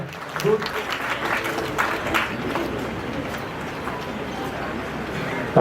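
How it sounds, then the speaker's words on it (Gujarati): A crowd claps steadily at an award ceremony, a moderate wash of applause that holds through and slowly thins toward the end. "જોરદાર તાળી"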